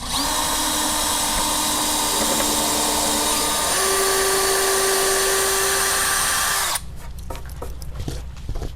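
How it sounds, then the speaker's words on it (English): A power drill pre-drilling holes in wood whines loud and steady for about seven seconds, its pitch shifting slightly as it bites, then cuts off abruptly, leaving quieter clicks and handling noises. "But because I'm afraid of splitting the wood, what I'm going to do is pre-drill some holes."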